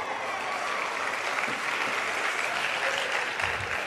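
An audience at a bookshop event gives steady, full applause for the event's co-sponsors, including a college women's studies research center and a gender studies department, continuous and fairly close.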